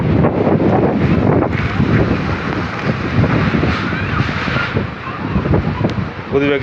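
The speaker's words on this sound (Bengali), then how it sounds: "ঝড়ের গতিবেগ আস্তে আস্তে বাড়তেছে।" Strong storm wind roars and buffets steadily, rising and falling in gusts with a rough rumbling hiss close to the listener.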